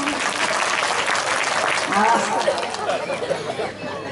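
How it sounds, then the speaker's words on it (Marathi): An audience at a bhajan competition at Virur Station claps loudly in a steady dense burst of applause, with crowd chatter and voices mixed in. "टाळ्या वाजवून द्या याच्या नावाने"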